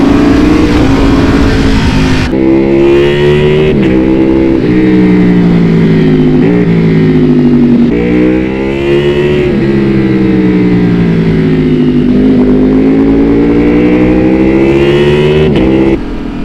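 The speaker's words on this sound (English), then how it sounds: "you're just going to have to believe me how good this bike sounds" A Ducati Panigale V4R with an Akrapovic race exhaust revs hard and loud up close, a raw, continuous engine roar rising and falling in pitch through repeated throttle blips over about sixteen seconds.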